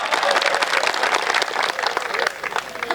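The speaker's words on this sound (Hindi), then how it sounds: "तालियां कमजोर है आप लोगों की यार, ढंग की बजाओ आप" A live audience clapping at a comedy show, a dense loud burst of applause that keeps going the whole time.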